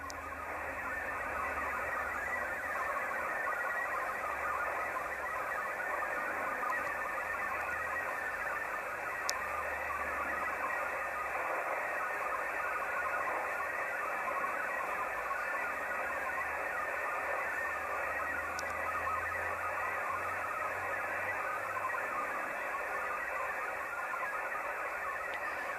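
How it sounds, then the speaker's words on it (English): A steady wash of warbling MFSK64 digital radio tones fills a fixed band, continuous and unbroken for the whole stretch, with faint low hum beneath. "so you can have a listen to the difference, what MFSK64 sounds like"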